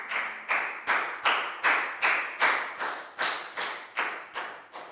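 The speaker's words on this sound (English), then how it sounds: "a big round of applause for Net too" A primary-school class claps together in unison during a Year 4 English lesson, about a dozen strong, evenly spaced claps in a steady rhythm, each one sharp and close, ringing briefly before the next.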